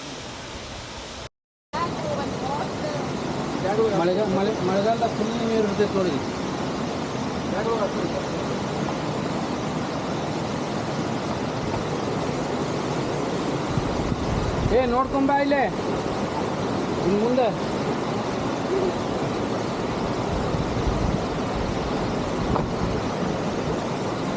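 Continuous broad roar of rushing, falling water at Sathodi Falls fills the scene, with voices talking faintly underneath after a brief dropout at the start.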